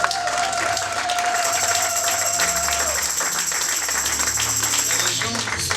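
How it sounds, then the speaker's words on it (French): A church congregation at a Sunday service applauds loudly and steadily, a dense wash of clapping from many hands that fills the room throughout, with a held tone fading out early on. "Acclame très fort pour la gloire du Seigneur."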